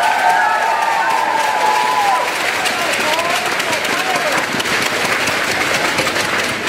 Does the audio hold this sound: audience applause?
yes